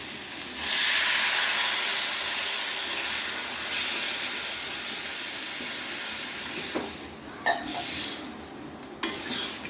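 Water poured into a hot pan of cauliflower and potato curry bursts into a loud hissing sizzle, then settles into steady bubbling frying with a few louder spits and scrapes near the end, no voices present.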